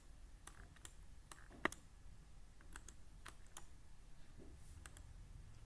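Computer keys click sparsely while text is copied and pasted during database coding in PHP. Scattered, crisp taps and a few sharper key presses sound close and quiet against faint background hiss, with no speech.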